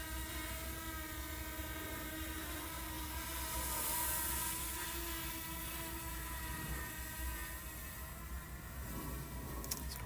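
Camera drone taking off and climbing above Cuyamaca College in San Diego County: a steady, tonal propeller whine that swells slightly midway and holds, with no talk.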